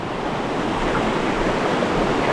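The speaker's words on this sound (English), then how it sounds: "through here we get some nice cascades, rapids, whatever you want to call them, through here" Stream rapids and small cascades in Jacques-Cartier National Park give off a loud, continuous rushing roar of water, close by and steady, with no voices.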